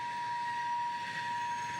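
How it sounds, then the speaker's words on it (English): A train runs continuously, a steady rolling rumble with a sustained tonal hum on top, moderately loud and unbroken for the whole stretch, with no talking. "The train is still going."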